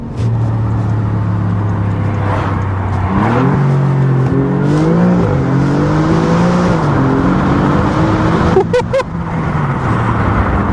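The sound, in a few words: Alfa Romeo Giulia Quadrifoglio engine sound while driving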